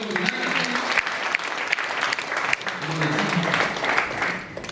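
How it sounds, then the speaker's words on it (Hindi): Seminar audience applauding together at a business plan meeting, sustained dense clapping throughout that swells slightly toward the end and continues steadily without a break. "एक बार जोरदार तालियों के साथ"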